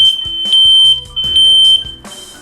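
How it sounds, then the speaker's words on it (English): An interconnected smoke alarm in an apartment complex shrills with a loud, piercing tone, sounding in repeated bursts with brief pauses while a second alarm chirps along from nearby. "everybody will know that there is an alarm going off in this side of the apartment complex"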